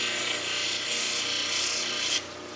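A wonderstone cabochon is ground against a wheel to recut its bevel, giving a steady, close raspy hiss with slight rocking swells in intensity that drops off abruptly near the end.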